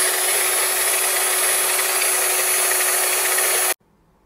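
A car polisher used on automotive glass whirs loudly and steadily at high speed, a continuous bright electric hum that cuts off abruptly near the end, leaving near silence.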